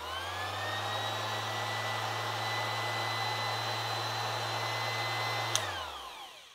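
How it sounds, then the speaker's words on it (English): Jellas random orbital sander running at steady speed, a continuous buzzing motor hum with a whining tone, close and even, then switching off and spinning down near the end. "You want your random orbital sander to have an orbital movement."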